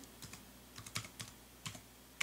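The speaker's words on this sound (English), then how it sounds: "this time I'll type in the yellow scale" A computer keyboard being typed on, a few scattered, faint clicking keystrokes close by in a quiet room.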